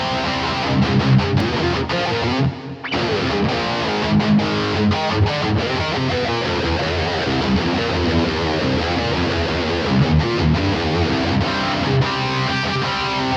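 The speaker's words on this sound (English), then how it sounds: "Let's add some chorus." Electric guitar through a Blackstar BEAM amp with a chorus effect for an 80s tone, a dense, wide shimmering run of chords and notes that plays loud and continuous without any voices.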